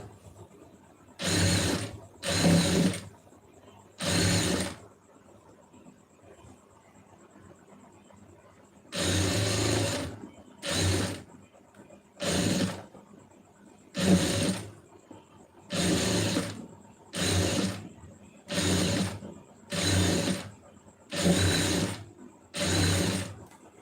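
A sewing machine stitches a blouse lining in a dozen short, loud bursts of whirring motor and needle clatter, separated by brief pauses, with no talking.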